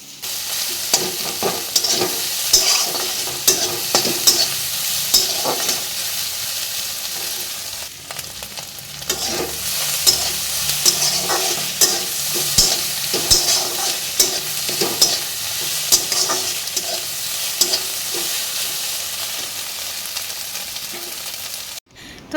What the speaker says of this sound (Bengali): এখন একটু ডিম ঝুরি করে নিচ্ছি টমেটো দিয়ে